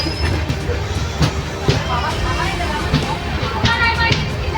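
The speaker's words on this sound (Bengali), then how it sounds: "তো আমাদের ট্রেন ছেড়ে বেরিয়ে গেল পুরী প্ল্যাটফর্ম থেকে।" The 18410 Sri Jagannath Express pulls out of Puri station with steady rumbling, rhythmic wheel clatter and occasional squeals, while people talk over the noise.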